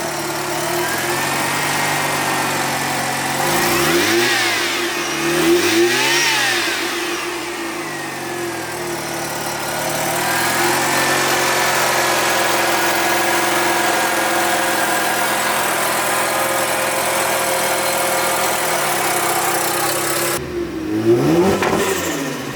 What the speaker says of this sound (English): No, it's actually just ignition breakup.